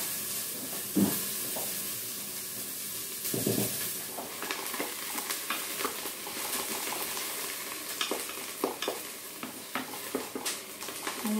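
Chopped onions sautéing in a Cookeo electric pressure cooker: a steady sizzling hiss runs throughout, with a few stirring scrapes and clinks of a utensil against the pot.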